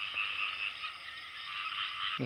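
Frogs croak steadily in a dense chorus at night during a pre-dawn outing to catch frogs, the rough calls fairly distant, with a brief low knock near the end.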